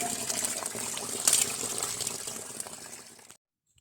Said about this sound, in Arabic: نشرب انتو الماء هابط من الجبال